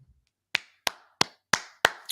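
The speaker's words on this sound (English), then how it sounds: "Quick round of applause here for that intro." Five sharp, evenly spaced claps, close and crisp with brief decays, forming a short burst of applause in a podcast studio.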